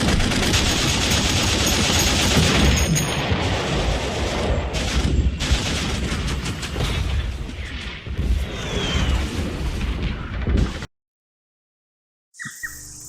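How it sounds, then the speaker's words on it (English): Archival war footage of Turkish troops firing down from steep slopes onto narrow beaches, loud continuous rifle and machine-gun fire mixed with booming explosions for about eleven seconds, then abrupt silence and a brief final burst. "From high on the steep slopes, the Turks fire on them with impunity."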